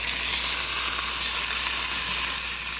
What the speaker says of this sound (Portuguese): ela já tá fritando bem